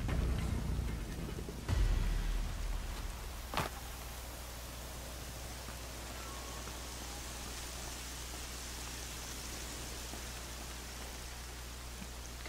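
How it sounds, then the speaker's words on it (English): Steady rain in the video game Horizon Zero Dawn, a continuous even hiss of falling drops filling the scene, with a couple of brief thumps early on and no talking. "Could it stop raining?"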